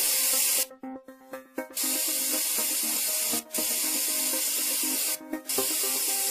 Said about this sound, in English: Apply the adhesive to both surfaces with an overlap of adhesive on each pass.